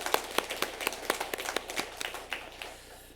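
A church congregation at a Sunday service claps in welcome, with sharp claps in a quick, fairly regular rhythm that is faint and tapers off toward the end.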